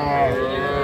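A young Sahiwal heifer calf lets out a sustained, fairly close moo at a cattle market, its voice holding steady across the whole moment.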